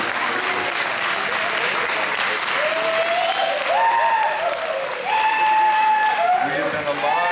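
A festival crowd at a Bavarian-style Bezirksfest in Leavenworth, Washington applauds a band with steady, loud clapping. Someone speaks over the applause from midway through.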